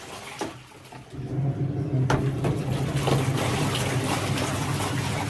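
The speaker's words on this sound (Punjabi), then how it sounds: "ਮਸ਼ੀਨ ਦੇ ਵਿੱਚ ਹੀ ਪਾਣੀ ਕੱਢਾਂਗੇ ਆਪਾਂ" Water draining out of a washing machine during laundry at a farm home, a continuous low gurgling rush that starts weak and swells after a second, then holds steady with occasional knocks.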